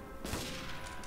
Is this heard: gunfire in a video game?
yes